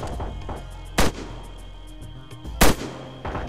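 Two loud, sharp weapon shots in Arma 3, about a second and a half apart, each a broadband crack with a short tail, over a constant low in-game ambience with faint background noise.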